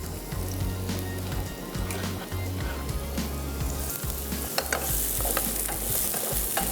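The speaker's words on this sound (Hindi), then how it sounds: "प्याज को करेंगे थोड़ा सा सौते" Onions sauté in ghee or oil in a pan, a steady soft sizzle with scraping stirs and clinks from a utensil, close by and moderately quiet, with a low hum underneath and no talking.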